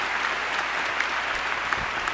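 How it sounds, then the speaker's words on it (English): A commencement crowd at Baylor College of Medicine gives a final round of applause for the day's awardees, a steady wash of clapping at moderate, somewhat distant level. "I'd like to have one final round of applause for all of our awardees today."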